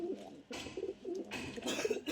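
Andhra Madrasi pigeons coo softly and close by, giving a few short, rounded, throaty calls in a quiet setting.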